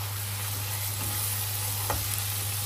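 A hilsa fish head sautéing in a pan with water lily stems sizzles in a steady, close hiss, with one brief stir around the middle.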